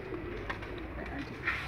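Pigeons coo and flutter softly while landing after a flight in hot summer weather, a faint nearby sound with brief wing movement and low background noise.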